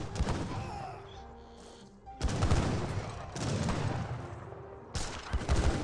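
Rifle volleys from skirmishers in Age of Empires 3 crackle in repeated bursts, with dense gunfire clusters around two, three and five seconds over ongoing battle din.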